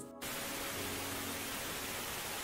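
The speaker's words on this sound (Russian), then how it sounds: "Вот так звучит белый шум." Steady broadband white noise hiss that begins abruptly after a brief silence and holds at an even level throughout, with no voices.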